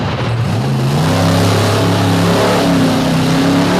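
A monster truck engine roars loud and continuous during a timed run at a show in DuQuoin, Illinois, its pitch climbing in stepped revs as the truck accelerates.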